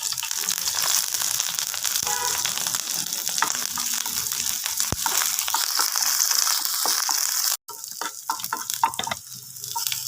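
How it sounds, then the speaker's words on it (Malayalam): Onion, a dried red chili and curry leaves sizzling hard in hot oil, a loud continuous crackle close by that cuts out briefly near the end, then resumes more sparsely. "എണ്ണ നന്നായി ചൂടായിട്ടുണ്ട് കുറച്ച് ഉള്ളിയിട്ട് ഇട്ട് കൊടുക്കാം ഒരു വത്തൽ മുളക് ഇത് കറിവേപ്പില"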